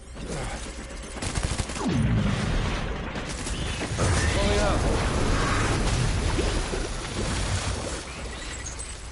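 Missile explosions and gunfire from a Death Stranding battle rumble and crackle in dense, loud bursts, with a voice talking over the chaotic combat.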